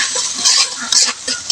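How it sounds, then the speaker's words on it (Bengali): Spice masala for a rohu fish curry, with cumin paste, salt and turmeric, sizzles loudly as it is stirred in hot oil, with a steady fry and occasional scrapes of a spoon against the pan. "দিয়ে মশলাটা ভালোভাবে কষিয়ে নেব"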